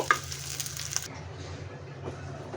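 Chepa shutki, dried fish, sizzles faintly and scrapes in a pan as it is fried and stirred, with a short burst of stirring at the start and then a quieter low frying hiss.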